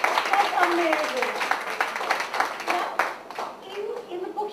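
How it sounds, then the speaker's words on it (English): Audience members at a book launch give a round of applause, scattered close claps that fade toward the end while people talk over them. "A round of applause, guys"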